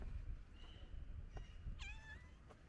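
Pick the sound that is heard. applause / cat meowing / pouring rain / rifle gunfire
cat meowing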